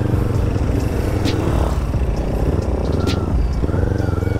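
A Kawasaki Z400 motorcycle fitted with an open aftermarket muffler, riding in traffic with a loud, rumbling, raspy exhaust drone and passing vehicle noise around it.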